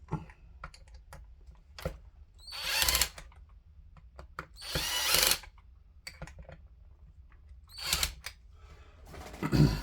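Parts are tightened down on the front of a Traxxas Rustler RC car with aluminum upgrades: several loud bursts of a small power driver whirring, separated by light clicks and handling noise, no speech.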